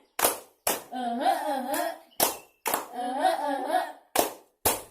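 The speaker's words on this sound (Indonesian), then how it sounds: "Tepuk semangat yang kedua." A school class performs a rhythmic 'tepuk semangat' clapping chant, sharp unison claps punctuating sung chant phrases in a steady call-and-clap pattern, loud and close.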